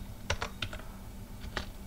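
Several quiet keystrokes on a computer keyboard as a terminal command is typed on Ubuntu to install XAMPP, arriving in small irregular clusters over a low background hum.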